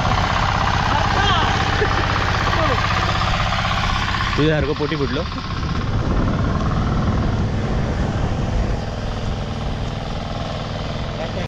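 A tractor engine runs steadily throughout on a rural Konkan roadside, a continuous low drone with people talking over it.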